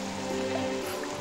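Steady rain falls outdoors in a royal palace setting, a continuous broad hiss of drops on surfaces with no speech, even and moderately loud throughout.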